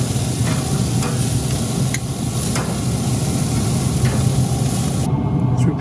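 Sweet potatoes frying on a hot grill give a continuous close sizzle with faint crackles, steady throughout with no one speaking.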